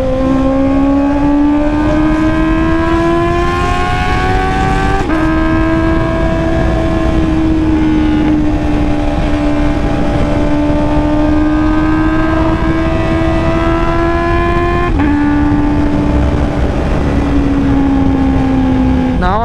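A Honda CB650R motorcycle on a relaxed morning ride, its engine droning steadily and close with a smooth, continuous tone that shifts gently in pitch as the rider changes speed, with no voices.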